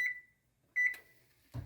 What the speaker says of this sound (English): our timer has gone off for the bread